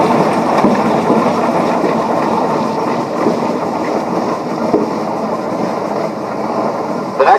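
A steam traction engine rolls past in the 2016 WMSTR parade at Rollag, giving a close, steady mechanical rumble and clatter at full volume, with a faint voice in the background.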